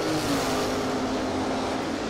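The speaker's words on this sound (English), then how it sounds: "Camaro turns it red and Chris puts it on the bumper again." Drag racing cars, a Buick Apollo wheelstander and a Camaro, roar steadily at a distance throughout, a continuous engine drone with no clear revving peaks.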